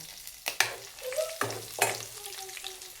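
Green and red chillies sizzle in hot oil for veg biryani, with a few sharp clatters as a spoon stirs the pan and a quieter hiss between the strokes.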